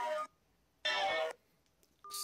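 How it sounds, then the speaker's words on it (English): A phone rings in a home kitchen with a pile of servers, three short electronic ring bursts separated by brief silences, fairly loud and close. "Excuse my phone."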